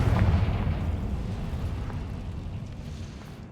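Fiery Confringo spell blast in the Hogwarts Legacy video game, a loud deep boom at the start that rolls into a long, dense rumble fading slowly over a few seconds.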